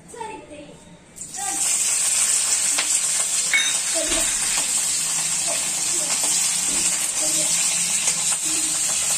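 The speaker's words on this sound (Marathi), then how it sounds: "नुसतं तेलामध्ये परतून घ्यायचे आहे." Green chillies frying in hot oil in a pan for chicken chilli, with a steady loud sizzle that starts suddenly after a brief quiet moment and carries on unbroken with light stirring clicks.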